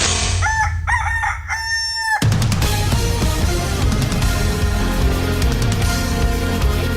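A rooster crows loudly and close at the start, a few clear calls over about two seconds, then dense radio station music takes over for the rest of the clip.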